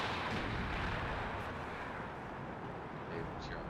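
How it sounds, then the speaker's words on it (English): Mortar barrage fire in the WARNO strategy video game rumbles as a dense, continuous wash of low booming blasts, loud and steady, with a voice talking faintly over it. "There's going to be a much thicker mortar barrage, mortar fire."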